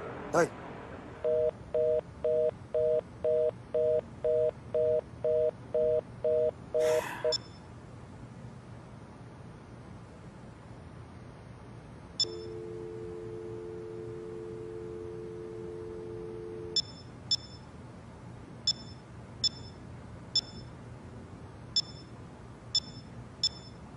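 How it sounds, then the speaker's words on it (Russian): A phone call with DTMF dialing tones in a quick row of beeps, then a steady tone, and finally a string of short electronic beeps like a voicemail signal. These cues alternate with quiet stretches. "Вы можете оставить сообщение после сигнала."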